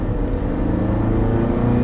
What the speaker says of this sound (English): Because it's a 4-cylinder engine, we're gonna be hearing engine noise a little bit more.